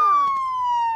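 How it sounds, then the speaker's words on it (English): A siren in a children's cartoon sounds as one clear, sustained electronic wail that slides slowly downward in pitch, close and prominent with nothing else over it. "Not the siren, Howie!"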